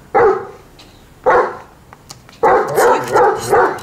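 Dog barking in a Russian melodrama film, three loud close bursts of deep barks, the last a rapid string of barks, with no talking.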